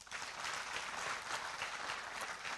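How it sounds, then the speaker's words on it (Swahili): Steady applause from a gathered crowd at a community security meeting in Naivasha, fairly quiet and even, clapping alone without any speech over it. "Na hiyo makofi haijatosha"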